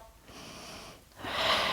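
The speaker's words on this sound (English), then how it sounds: "Breathing in through the nose and out through the mouth." Breathing during a hand-towel Pilates workout: a soft inhale through the nose, a brief pause, then a louder, breathy exhale through the mouth, close and with no talking.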